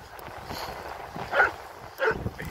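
A dog on a morning outing in Skegness gives a couple of short barks over steady outdoor background noise, moderately distant.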